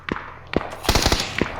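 Gunfire in the battle royale game PUBG: two single sharp shots followed by a quick burst of several rounds and one more shot, loud and close, with no talk.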